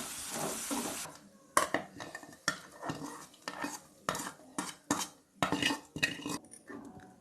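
A sautéed mixture is stirred and scraped in a metal pan before it goes into gongura greens. A bright sizzle opens and then gives way to rhythmic, close scraping and clinking strokes, with no one speaking.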